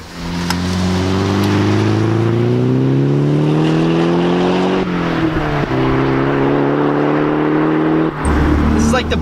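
A Nissan 180SX Sileighty engine drones and revs steadily while driving, its pitch climbing slowly, dipping at a gear change around the midpoint and again near the end, loud and close throughout.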